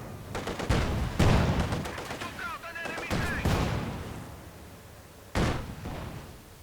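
Tank cannon blasts and scattered gunfire in a Company of Heroes 2 battle, several sharp booming reports spaced a second or two apart amid ongoing combat noise.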